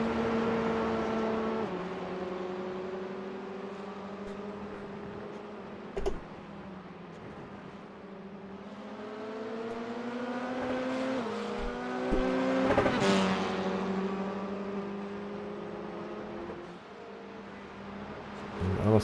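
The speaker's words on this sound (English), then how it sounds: "The 499 bouncing on the rev limiter then." A race car in the iRacing NXTGEN F4 sim race at Catalunya, heard as a steady engine whine whose pitch rises and then stutters while bouncing on the rev limiter, with brief clicks and occasional faint commentary underneath.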